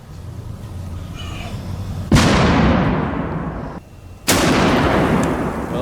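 Two loud gunshots fire slap rounds, each a sudden sharp muzzle blast whose echo decays over a second or more, with a steady outdoor rumble between them.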